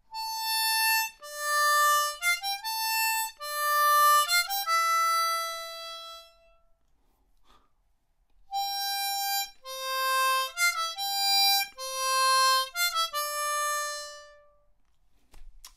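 Harmonica playing parts A and B1 of the Game of Thrones theme, clear sustained single notes in two phrases separated by a short pause, close and alone.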